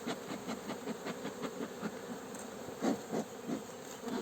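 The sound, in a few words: honey bee swarm buzzing around a nucleus hive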